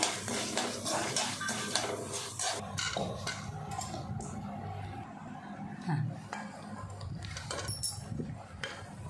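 A spoon scraping and clinking against a metal pot as roasted tempering is stirred into sesame rice, a run of repeated close scrapes and taps, with faint background noise.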